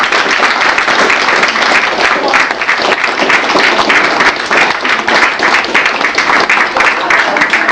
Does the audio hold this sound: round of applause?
yes